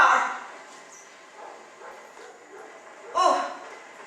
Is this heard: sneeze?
no